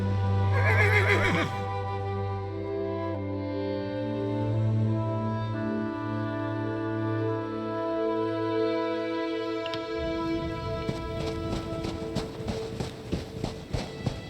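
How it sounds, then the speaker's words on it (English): In the Elder Scrolls Online game, a horse gives a loud, drawn-out whinny with a sustained harmonic tone, then hooves clop in a steady rhythm of sharp, close knocks. "I'll secure the horses while you go on ahead."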